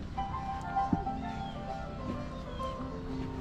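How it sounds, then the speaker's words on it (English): Jazz Christmas music from Peanuts plays faintly and briefly in the background, with thin, tinkly sustained tones. "It's jazz Christmas."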